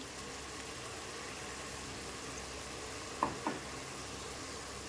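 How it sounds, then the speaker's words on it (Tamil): Chopped tomatoes sauté in a pan for tomato biryani, giving a steady, even sizzle throughout, with two brief utensil clicks near the end and no voices. "தக்காளியை போட்டு நல்லா வதக்கலாம்."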